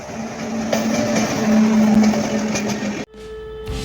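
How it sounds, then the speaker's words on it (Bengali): A Howrah–Secunderabad down express train rumbles steadily at Balasore station in Odisha, a loud continuous roll with a sustained hum that cuts off abruptly near the end, leaving quieter station ambience. "এখন আমরা উড়িষ্যার বালাসোর স্টেশনের সামনে রয়েছি হাওড়া সেকেন্দ্রাবাদ ডাউন এক্সপ্রেস"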